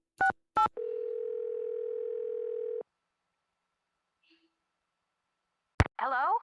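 Telephone dial tone in a Nancy Drew mystery game, two short dialing beeps and then a steady hum lasting about two seconds before cutting off, followed by a brief voice.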